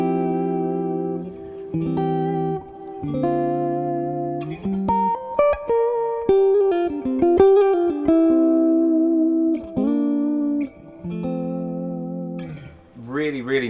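Clean electric guitar notes and chords ring out through a Two-Rock Traditional Clean amp, with a lush reverb tail sustaining each phrase; sparse, close, and fairly loud.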